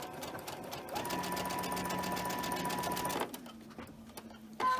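A sewing machine stitches quilt fabric in a rapid, steady whirring run for about three seconds, then stops, leaving quiet clicks and faint handling noises.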